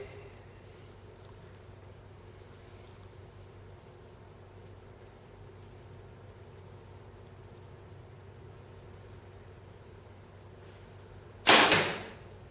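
An arrow is loosed from a 76-pound bow through a chronograph, a single sharp snap and whoosh near the end after near-silence.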